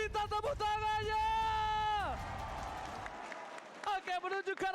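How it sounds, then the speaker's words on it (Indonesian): An arena crowd at a Mobile Legends MPL esports match breaks into a loud burst of applause and cheering after a falling musical sweep, lasting about a second and a half before a host's voice returns. "MPL Arena minta tepuk tangannya!"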